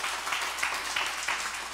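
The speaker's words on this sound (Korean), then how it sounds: "우리 정영광 목사님 안산에서 오셨는데 박수 한번 쳐주세요" A church congregation applauds during a revival service, a brief burst of many hands clapping at moderate distance, fairly soft and even.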